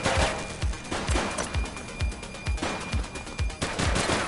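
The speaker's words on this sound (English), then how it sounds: "He's shooting!" Rapid gunfire from the police video game The Precinct: a steady string of loud, punchy shots about twice a second, running continuously over a dense game soundscape with no talking.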